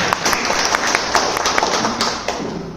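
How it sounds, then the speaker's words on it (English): Audience applause at an indoor book discussion in Bangalore, a steady wash of many hands clapping with a few sharper claps standing out, continuous and fairly close throughout. "A big round of applause for Dr. Walker"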